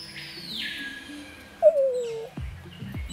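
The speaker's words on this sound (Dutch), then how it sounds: "Een soort paradijsvogel, een soort pauw." A sharp, piercing peacock call rings out once mid-clip, loud and nasal, over quiet jungle background with a few faint knocks.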